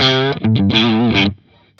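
An electric guitar played through a Black Country Customs Laney pedal rings out a brief, fat, greasy distorted phrase of a few sustained notes that cuts off and decays into quiet.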